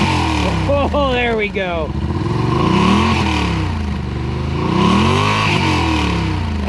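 A Yamaha RMAX 1000 side-by-side engine on its stock exhaust revs up and down, a loud, close throaty roar that climbs and falls in pitch while someone talks over it.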